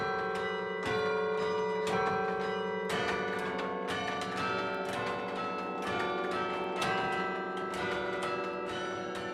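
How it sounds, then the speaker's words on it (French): Carillon bells of the Perpignan cathedral bell tower, cast in 1878, ringing a continuous melody of overlapping struck tones with long resonant decay, loud and alone. "le campanile où se cache le carillon qui fait la fierté des Perpignanais"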